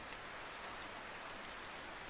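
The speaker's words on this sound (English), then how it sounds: "Oh, it is really raining." Steady rain pours in the medieval survival game Medieval Dynasty, a continuous broadband hiss with no distinct drops or breaks, fairly quiet and unbroken throughout.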